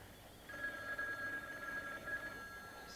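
A telephone bell rings indoors, a thin sustained trill lasting a couple of seconds, faint and somewhat distant, with no voices.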